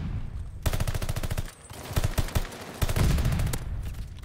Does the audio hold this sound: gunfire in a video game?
yes